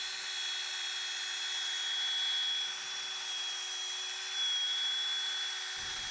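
An angle grinder with a polishing pad works on a car headlight, giving a steady, close, high-pitched whirring drone that swells slightly in two places as it runs continuously without talk.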